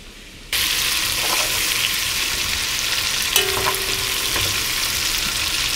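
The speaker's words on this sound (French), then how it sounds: "Là, on est rendu presque à la fin de la cuisson des saucisses." Sausages fry in a pot for a Cajun-style raccoon jambalaya, a loud, even sizzle starting abruptly after a short quiet moment, with a few clinks of a utensil and light stirring sounds, no voices.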